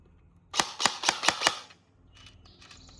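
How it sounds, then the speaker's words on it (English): An airsoft AK rifle dry-firing on semi-auto gives five sharp, evenly spaced mechanical clacks, close and crisp, followed by quieter handling noise. "You dry firing. You're out of ammo."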